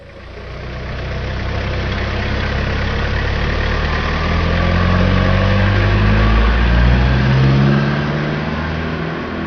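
A Town Ace truck engine runs continuously at a steady, throaty idle close by, with a slight rise and fall in revs partway through.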